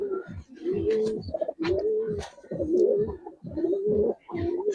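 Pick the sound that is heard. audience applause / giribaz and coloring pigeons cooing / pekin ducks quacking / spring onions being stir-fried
giribaz and coloring pigeons cooing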